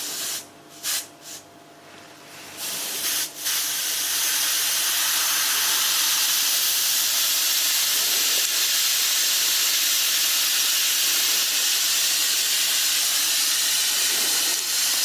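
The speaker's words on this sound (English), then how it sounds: "I'll fix these rust pigments with some thinners from the airbrush" An airbrush sprays thinners onto rust pigments on a 1/6 scale Panzer IV model tank, a loud, steady close hiss that starts in a few short bursts and then runs unbroken to the end.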